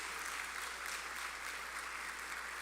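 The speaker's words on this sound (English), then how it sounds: "Can we give everyone a rousing round of applause" Audience applause after conference presentations at an agribusiness investment forum in Jamaica: a soft, steady wash of many hands clapping, heard from a distance and even throughout, with no voices.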